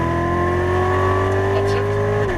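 A Chevrolet Corvette Z06 Stingray accelerates on a racetrack, its loud engine holding a strong, steady howl that climbs slightly in pitch before dropping sharply at the very end.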